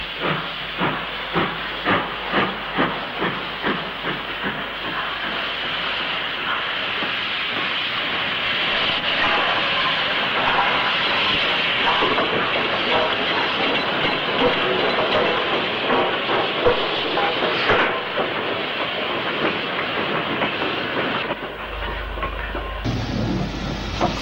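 LMS Black 5 steam locomotive 44800 working as station pilot at Shrewsbury in 1966: a run of sharp rhythmic exhaust chuffs gives way to a long loud steam hiss with faint clanking, ending in a low rumble.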